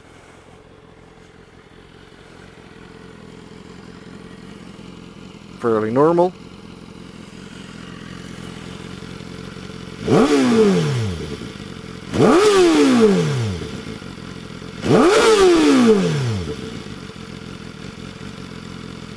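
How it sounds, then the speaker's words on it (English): A 2015 BMW S1000RR sport motorcycle with standard exhaust idles, then revs hard three times in quick bursts, loud and close, with a short spoken remark before the revs. "Let's see how she revs."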